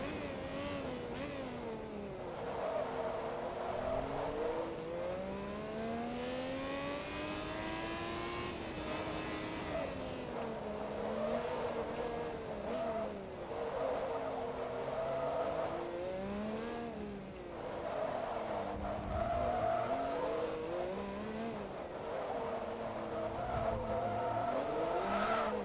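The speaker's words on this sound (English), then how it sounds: "I do feel like this car definitely sounds the part of what it is. It's got quite a decent engine note in this game." A very wide, high-powered race car in Forza Motorsport 2 revs hard through its gears, engine pitch sweeping up and down with shifts and brief tire squeal, loud and continuous throughout.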